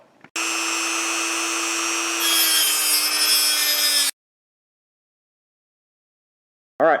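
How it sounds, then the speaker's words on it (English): A Dremel rotary tool with a cutting disc grinds a slot into a .22 long rifle shell held in a vise, a loud high whine lasting about four seconds and rising in pitch partway through, then cutting off to silence. "take your Dremel tool with a cutting disc on it and cut a slot"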